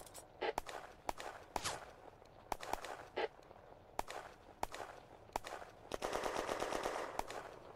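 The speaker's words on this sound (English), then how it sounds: "The German gun crews fire at Olivier's men as they advance" German gun crews firing in the Firefight wargame set in June 1940 France: sharp, close gunshots in an irregular sequence, some single cracks and a rapid burst of automatic fire near the end, with no voices.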